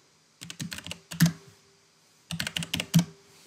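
Two quick bursts of close keyboard typing as terminal commands are entered on a computer, crisp clicking keystrokes separated by a short quiet pause.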